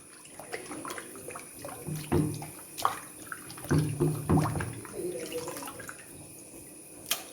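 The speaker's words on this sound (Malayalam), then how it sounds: "ഒരു രണ്ട് മൂന്ന് പ്രാവശ്യം നമുക്ക് അങ്ങോട്ടും ഇങ്ങോട്ടും കഴുകാം" Fish is swished and rinsed in a pot of water, with irregular sloshes and splashes in a few bursts and some small drips, close by and moderately quiet.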